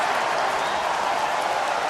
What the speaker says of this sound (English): It's got the Chicago crowd all fired up.